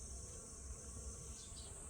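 Honeybees buzz steadily around flowering sesame plants, a continuous drone of wings mixed with other insects, moderately loud and uninterrupted over a low rumbling background.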